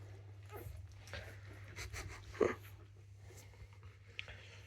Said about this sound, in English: I'm concentrating on panting and squeezing